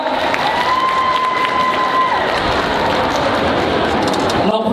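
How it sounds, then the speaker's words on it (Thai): A crowd at a Thai film gala premiere applauds and cheers loudly, a dense continuous wash of clapping and shouts with a sustained tone running through the first half. "ขอเสียงปรบมือดังๆด้วยครับ"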